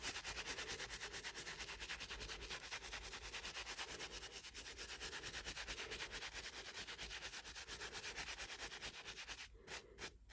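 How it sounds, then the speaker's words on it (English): A brush sweeps loose material off a model baseball pitch built for a Christmas village, giving a steady, close, continuous rubbing and sanding scrape with fine rhythmic strokes throughout. "Let me just brush off any excess here."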